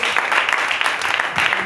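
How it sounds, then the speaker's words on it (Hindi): Church congregation clapping together, a sustained wash of many hands applauding at moderate volume throughout. "क्या आप ताली दे सकते हैं?"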